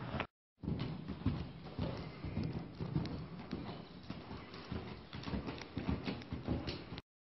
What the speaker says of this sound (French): Allez, poney. Trottez.